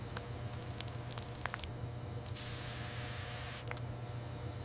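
Protective coating sprayed onto frog leather in a factory, a few short spritzes followed by one longer continuous hiss of spray lasting over a second, over a constant low machinery hum.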